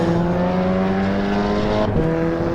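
Race car engines in Assetto Corsa EVO, a pack of more than thirty cars on track, droning together in a loud, steady, layered roar with a brief gear-change dip partway through.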